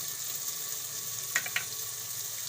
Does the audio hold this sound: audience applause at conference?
no